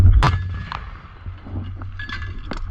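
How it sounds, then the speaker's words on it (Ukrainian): One sharp, loud gunshot near the start, followed by a low rumble and a few faint clinks. "Постріл!"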